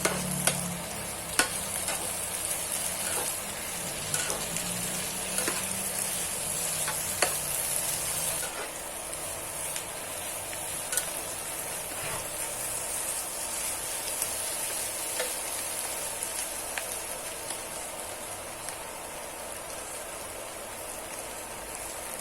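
Gourd and eggs stir-frying in a hot pan, a steady bright sizzle with repeated scraping and stirring strokes of a utensil, loud and close, continuing without talk.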